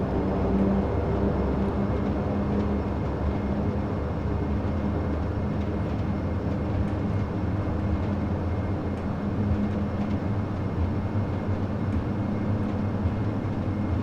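Dash-8 Q400 turboprop engines at takeoff power in FSX, a loud, steady roaring drone with a constant hum that holds throughout the takeoff roll.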